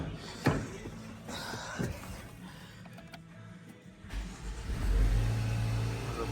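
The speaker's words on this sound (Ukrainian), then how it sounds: "Зараз продемонструю, як двигун запускається та працює." Land Rover Discovery Sport 2.0 EcoBoost petrol engine cranking, catching and settling into a cold idle after fuel injector cleaning, with a brief rev and a slam-like knock early on, recorded close by.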